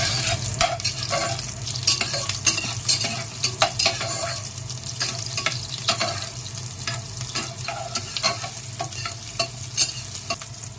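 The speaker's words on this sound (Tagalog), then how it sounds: "Yes, maglagay tayo ng mantika. Igisa natin ng sibuyas." Onions sauté in hot oil for a pork belly sinigang, giving a steady close sizzle broken by frequent scraping stirs of a spoon against the pot, with no talking.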